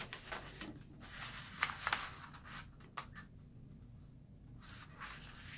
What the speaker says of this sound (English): I'm going to fold it in half on these 2 corners.